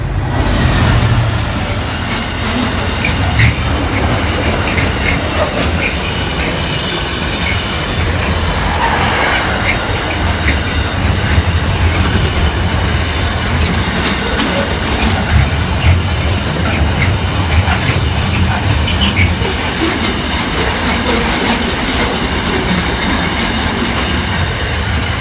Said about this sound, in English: Do I hear the train?